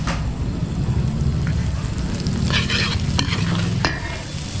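Garlic and onion sautéing in butter and cooking oil for chicken pastel at a barangay fiesta catering, a loud dense sizzle with constant stirring and scraping, a few sharp clanks, no clear talk.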